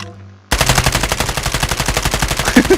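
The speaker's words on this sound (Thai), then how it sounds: "มา พร้อมระปืนกลเลยนะ อันนี้ปืนกลนะนะ" A machine gun fires in the mobile shooter game Call of Duty Mobile, a loud rapid burst of evenly spaced shots that starts abruptly after a brief quiet moment and continues without pause.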